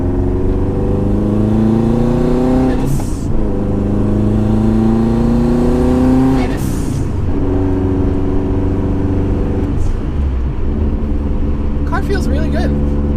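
A Subaru WRX pulls hard on a highway, its engine note climbing steadily through three upshifts, each marked by a brief dip before the revs rise again, loud and close.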